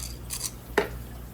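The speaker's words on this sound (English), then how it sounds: "I've got a pair of scissors around here somewhere." Scissors snipping open a bag at an aquarium fish unboxing, a couple of soft blade slides followed by one crisp close cut over a steady low background hum.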